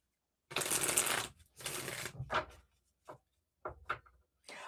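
Close, crisp riffle and shuffle of tarot cards for a reading, several short bursts separated by brief pauses in a quiet room.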